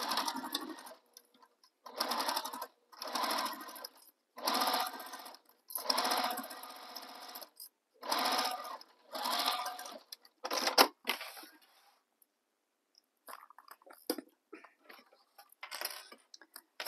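A sewing machine stitching a tote bag seam in short repeated bursts of about a second each with brief pauses between, close and clear, ending in scattered light clicks and handling noises.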